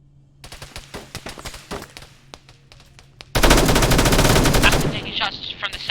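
Sparse scattered shots and clicks in a video game give way to a loud, dense sustained burst of automatic gunfire lasting over a second, then fading into lighter crackling.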